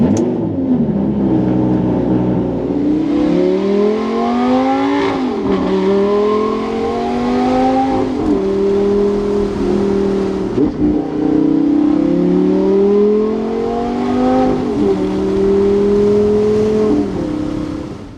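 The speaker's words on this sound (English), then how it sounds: "let's go ahead and fire it up" A Lamborghini Gallardo with aftermarket exhaust tips sits close and loud, its engine running and revving repeatedly, each blip rising and falling in pitch over a continuous, throaty idle.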